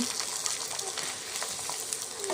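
Sun-dried rice flour papad, shaped on jackfruit leaves, frying in hot oil, a steady bubbling sizzle that runs continuously with small crackling pops and no voice over it.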